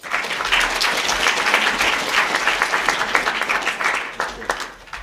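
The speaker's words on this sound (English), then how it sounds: "Can we give Sir Brian a round of applause?" A school audience gives a guest speaker a loud, sustained round of applause, many hands clapping densely and close, tapering slightly near the end.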